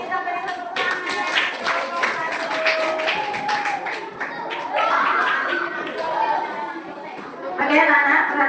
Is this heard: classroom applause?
yes